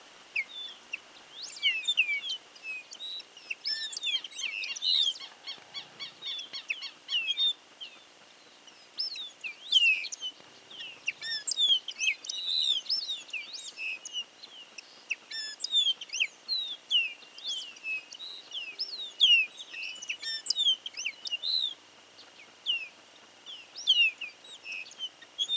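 Goldfinches and corbatitas feeding on grass seeds along a roadside verge in Santa Fe, Argentina, giving many thin, high chirps and twittering calls, scattered and fairly faint with no talking.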